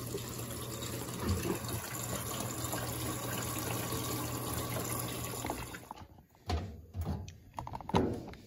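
Water gushes steadily into an old Electrolux top-load washing machine as it fills for the rinse, a continuous loud pour that cuts off near the end, leaving a few knocks and clunks.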